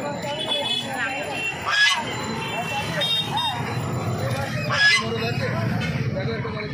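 Geese and ducks at a hen market in Uluberia, with repeated nasal honks rising over a busy crowd and someone talking close by throughout.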